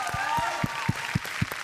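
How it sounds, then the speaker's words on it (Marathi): Audience applause for a dancer on a Marathi TV dance competition stage, a short burst of clapping with a few distinct loud claps standing out, heard under continuing background music. "नेहुलसाठी जोरदार टाळ्या."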